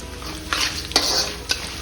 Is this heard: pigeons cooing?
no